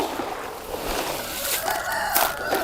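Country chickens on a poultry farm cluck and a rooster crows out in the open, layered over a steady background hum, the calls growing busier toward the end.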